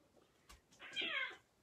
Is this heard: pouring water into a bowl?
no